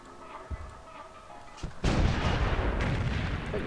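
Artillery fire in Civilization III during a World War II scenario attack on Naples: a few soft thumps, then a loud sustained burst of booming, rumbling barrage that fills the rest of the clip, with no talk.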